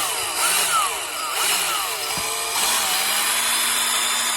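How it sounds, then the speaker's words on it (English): Cordless battery drill spinning a cleaning rod inside an airsoft gun barrel, a loud, steady close whine with shifting pitch sweeps as the rod turns, running continuously without talk. "we're going to take a drill, battery drill. You're going to hook it to the end of the cleaning rod"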